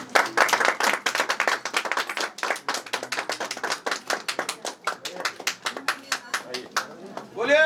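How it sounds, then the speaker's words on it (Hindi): Applause at a municipal council president's swearing-in ceremony: a crowd claps in a steady, fairly close patter that thins into separate sharp hand claps toward the end. "तालियां"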